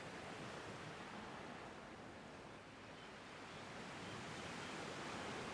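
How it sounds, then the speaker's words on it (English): Steady ocean surf washes continuously against the shore, a broad hushing roar that swells slightly toward the end, heard alone with no voices. "Sounds of the waves,"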